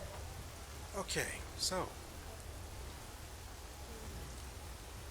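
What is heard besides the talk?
rain in video game Enderal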